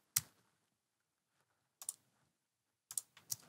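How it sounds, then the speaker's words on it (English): Isolated clicks of computer keyboard keys, one sharp press followed after a pause by a few more taps, close and fairly quiet with silence between. "you can hold down the Shift key"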